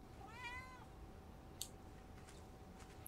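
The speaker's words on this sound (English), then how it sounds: "There's no way they're killing that cat." A cat in a horror movie lets out a single faint, rising-and-falling meow, followed by quiet background ambience and a few soft clicks.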